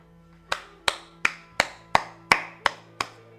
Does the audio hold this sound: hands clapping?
yes